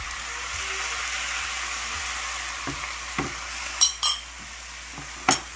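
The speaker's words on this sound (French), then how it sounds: "je vais mettre mon bouillon que j'avais mis" Broth poured into shrimp rice in a hot pan, a steady soft sizzle throughout with a few sharp clinks of a utensil near the end, close and fairly quiet.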